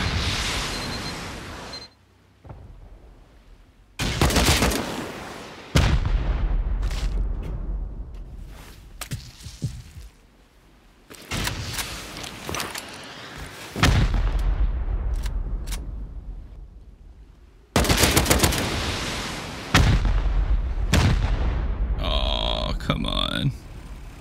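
Loud, close rocket explosions and bursts of gunfire in a raiding video game, arriving in several heavy blasts separated by quieter gaps, with a player's voice reacting in between.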